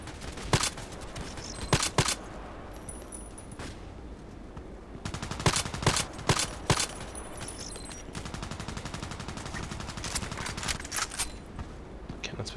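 Bursts of video game shooter gunfire from a first-person multiplayer match, sharp shots in clusters and rapid volleys separated by short pauses, fairly loud and close, with no talking.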